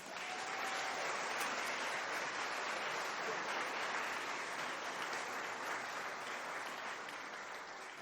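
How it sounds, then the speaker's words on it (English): A school spring concert audience applauds the concert band: a loud, even wash of many hands clapping that holds steady for several seconds and tapers slightly at the end, with no talking. "So can we give them a big round of applause?"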